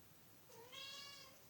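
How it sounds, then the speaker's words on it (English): A pet cat gives a single drawn-out meow, close and fairly quiet, rising and then falling, with no talking over it. "My cat meows every time I cough."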